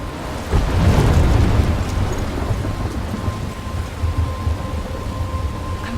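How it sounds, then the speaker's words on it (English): A thunderstorm with rain in the video game Life Is Strange: a heavy rumble of thunder swells early and fades, followed by a steady wash of rain and low wind. "I'm trapped in a storm?"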